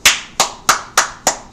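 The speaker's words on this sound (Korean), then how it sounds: "박수 치고요." Five sharp, evenly spaced hand claps ring out close and loud, one roughly every third of a second, with a quiet gap after each.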